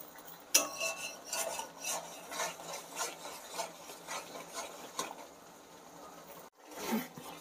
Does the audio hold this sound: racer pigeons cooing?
no